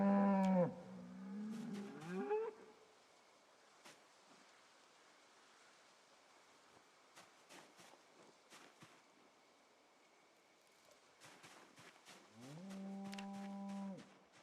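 Cattle mooing in a video game, with one long low moo at the start and another near the end, separated by quiet ambient noise and scattered faint clicks.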